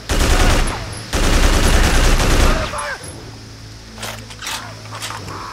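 Gunfire in the video game Haze comes as two dense, loud bursts of rapid shots with a short break between them. After that it fades into quieter game sounds and scattered clicks.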